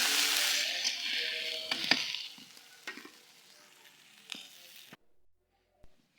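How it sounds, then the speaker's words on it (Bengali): Loud hissing sizzle of chilies and onions hitting hot oil, fading gradually with a few stirring clinks, then near silence. "ঝাল পেঁয়াজগুলো ভালো করে ভেজে নিচ্ছি"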